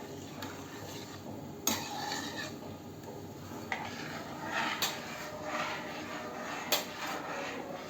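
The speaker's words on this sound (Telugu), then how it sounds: "వేసేసి ఉండకట్టకుండా అడుగంటకుండా కలుపుతూ దాన్ని ఉంచాలి." A spoon stirs melted jaggery in a pot, scraping quietly with occasional light clinks against the metal, faint and close in an otherwise still room.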